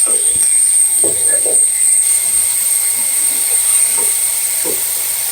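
Onions sizzle in a pan at medium heat for an Afghani-style egg curry, a continuous loud hiss with scattered soft clicks and pops and no speech.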